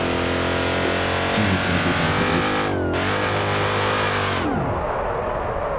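In the BeamNG.Drive video game, a car slides through dirt with its engine revving hard and close, pitch rising and falling, then the roar cuts off abruptly near the end.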